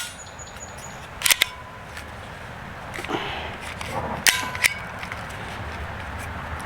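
Dry-fire clicks from a Kel-Tec P17 pistol as the trigger is pulled and released, a few small sharp metallic snaps close up over a steady background hiss, with a quiet voice between them.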